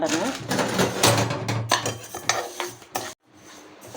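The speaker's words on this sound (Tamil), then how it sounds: "பருப்பை வறுக்கிறேங்க இது பாயசத்துக்கு தான் இந்த பருப்பு" Lentils roasting in a pan for Onam payasam, with clattering metal scrapes and knocks of stirring and a faint sizzle. A voice talks over it before the sound drops off abruptly near the end.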